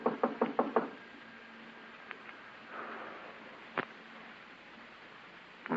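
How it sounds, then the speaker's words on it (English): A run of five quick knocks on a door at the start, then scattered fainter taps and one sharp knock near the end, with soft rustling between. "Give him a knock."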